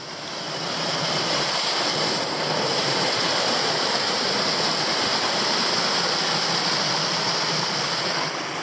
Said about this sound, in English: Another cute little cascade on Spring Creek.